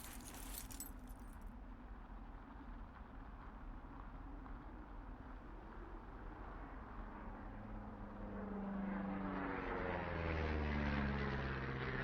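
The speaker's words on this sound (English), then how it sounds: "You see that plane?" Propeller airplane passing overhead in the Firewatch video game, a steady broadband drone that swells louder toward the end over outdoor ambience, with no talk.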